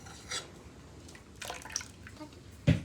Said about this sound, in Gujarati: થોડું પાણી નાખીએ આપણે